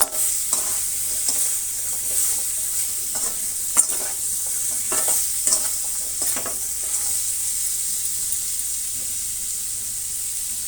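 Water apple pieces frying in oil on a low flame, a steady soft sizzle with repeated close scrapes and taps of a spoon stirring in the pan, no voices.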